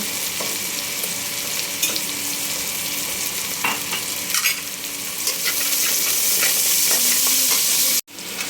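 Spice paste with onion, green chili and salt sizzles steadily in a hot pan, stirred continuously with scraping strokes, loud and close, with no talk over it.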